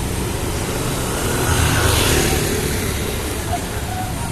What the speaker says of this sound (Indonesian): Ada mobil dari sana